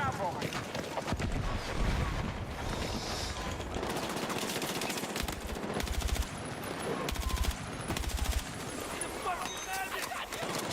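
Heavy-recoil gun firing in the video game Battlefield 6, rapid automatic bursts in repeated strings with battlefield noise around them, while a player talks over the shooting.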